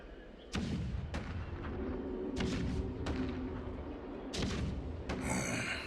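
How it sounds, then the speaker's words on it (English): Deep cannon blasts from the video game Honkai: Star Rail boom at irregular intervals over a continuous low rumble, with sharp cracks from some of the shots. "the rumble of the cannons."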